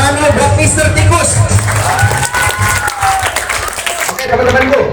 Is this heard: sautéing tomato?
no